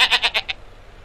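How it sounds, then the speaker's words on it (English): A cartoon goat in the Dora the Explorer: Click & Create video game gives a quick bleat of five short, bright, evenly spaced notes that fade out, heard alone and fairly close. "It's a goat."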